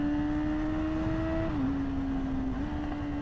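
A Yamaha R6 motorcycle engine drones steadily while riding, a close, continuous hum with slight dips in pitch and no voices.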